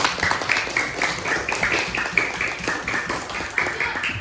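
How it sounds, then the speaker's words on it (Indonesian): Schoolchildren in an elementary school classroom clap their hands in a quick rhythmic run of claps, moderately near, with a high tonal hum in the background and faint voices underneath. "Ya, oke, tepuk tangan dulu."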